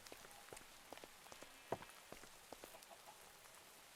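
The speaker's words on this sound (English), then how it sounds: "The rain, though." Rain falls in the Minecraft modpack Enigmatica 2 Expert, a faint, steady patter of scattered drops with one slightly louder tap near the middle and no talking.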